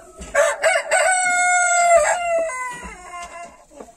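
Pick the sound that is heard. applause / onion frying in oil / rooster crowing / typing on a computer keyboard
rooster crowing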